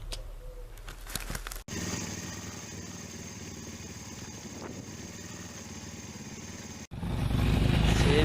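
A motorcycle engine runs steadily and fairly close just before a group ride at the Legends Day 2017 gathering, with a brief cut partway through and a louder rev near the end.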